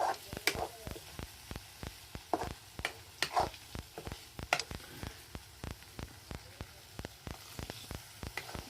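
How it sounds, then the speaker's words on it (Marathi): River fish frying on a wood-fired stove, heard as a quiet sizzle under a regular series of sharp, rhythmic scraping knocks as the pieces are stirred around the pan. "चांगला असं हालून घ्यायचं चांगला फ्राय होऊन"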